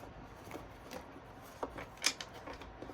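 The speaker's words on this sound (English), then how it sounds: "let me gather this deck together that I almost dropped." Playing cards being gathered and squared into a deck, soft brushing and a few small taps and flicks scattered over a few seconds, faint and close with no talking.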